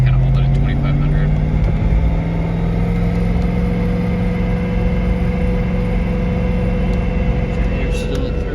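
Ford Mustang engine held steady at about 2,500 RPM in first gear, a constant low, rumbling drone that stays even and loud throughout without revving up or down.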